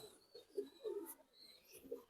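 A black-pied racing pigeon coos softly and nearby in several low, rolling phrases, quiet against a calm background.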